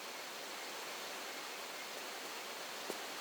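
A waterfall on the River Ganges level of the Tomb Raider 3 video game roars as a steady, unbroken rush of broadband water noise, with no voices and no break in the sound.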